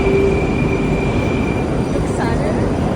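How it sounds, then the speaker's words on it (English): A metro train in a Russian city rumbles along with a steady loud roar, faint wheel squeal and a thin whine running through the ride. "This is the metro here. They got a very extensive metro system in this city."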